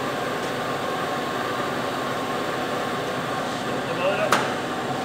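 A vertical spindle segmented wheel cup grinder, the MS 1500, runs with a steady broadband whirring hum, constant and fairly loud throughout, with a faint click near the end.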